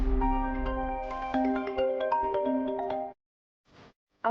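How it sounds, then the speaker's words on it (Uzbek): A mobile phone plays a bright melodic ringtone for about three seconds, then cuts off, leaving near silence broken by a couple of brief faint sounds. "O'sha telefoning."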